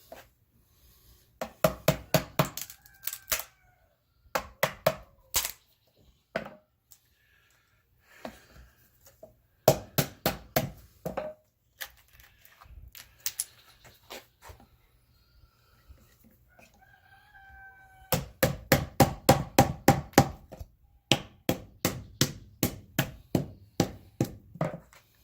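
Chisel hollowing out a wooden bowl on a dishing stump, sharp repeated wooden chops in quick bursts with short pauses between, close and crisp over a quiet background.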